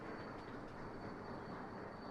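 Trains in the Sweet Transit railway game rumble steadily as a dense, continuous rolling noise with a faint high whine, unbroken and with no voices.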